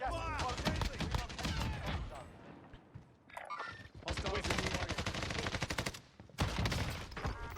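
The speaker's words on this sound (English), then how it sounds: "Yeah, shotguns, you want to hip fire." Rapid bursts of gunfire from the Call of Duty Warzone video game crack in quick succession, separated by short pauses and mixed with other in-game sounds at a moderate, steady level.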